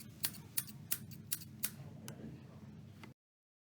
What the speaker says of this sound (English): And Grandma Smoo kindly cut it for him.